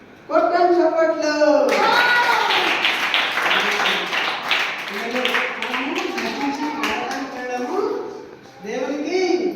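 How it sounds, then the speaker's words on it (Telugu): Children clap their hands together in a lively burst in the middle, between stretches of an adult voice talking at the start and end. "కొట్టం చప్పట్లు"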